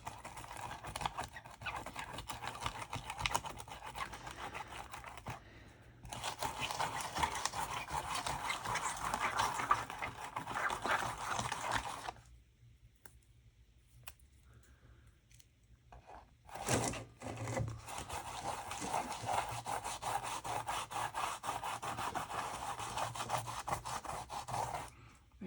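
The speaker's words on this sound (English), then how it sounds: "use this rubber cement and rub off the salt and the masking fluid" Rubber cement being rubbed across watercolour paper to lift off salt and masking fluid, a steady close scratchy rubbing that stops briefly twice before resuming, with no talking.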